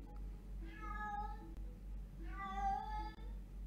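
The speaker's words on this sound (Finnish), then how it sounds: "Se on meidän kissa." A pet cat indoors gives two drawn-out meows about a second apart, clear and fairly close over a steady low electrical hum, with no speech.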